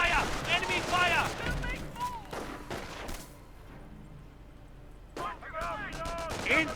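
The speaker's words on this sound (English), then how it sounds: "Incoming gunfire." Gunfire crackles in Company of Heroes, a World War II strategy game: scattered shots and bursts sound among the soldiers' voiced callouts, with quieter stretches between the louder volleys.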